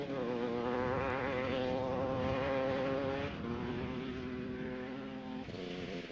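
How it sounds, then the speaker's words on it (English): A Kawasaki 250 enduro motorcycle at a 1995 Scottish enduro event drones steadily from a distance, its engine note shifting pitch as it rides past and fades slightly. "That last rider there, number 33, is Davey Dunn on his Kawasaki 250"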